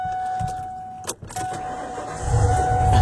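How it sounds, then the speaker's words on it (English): A pickup truck engine cranks over and catches, settling into a low, steady rumble that swells louder toward the end. "We'll go ahead and fire it up so you can hear it"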